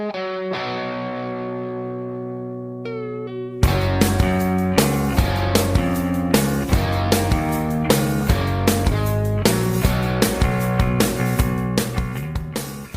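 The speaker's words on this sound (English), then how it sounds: "the bass guitar tone here is absolutely ripping" Distorted, driving bass guitar in the verse progression of a song, starting after a quieter sustained intro and then pulsing in steady, loud eighth-note attacks with band accompaniment.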